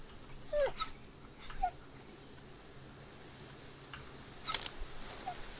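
A mangy dog in the Darkwood horror game lets out a few short whimpers and yelps, faint and spaced apart, over a quiet, low ambient background with a sharp click near the end.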